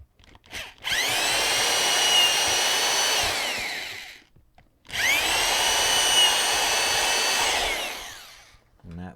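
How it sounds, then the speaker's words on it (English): A power drill bores straight through MDF in two long, loud whirring runs, each several seconds long, with a brief pause between them. "we're just going to drill a hole straight through these."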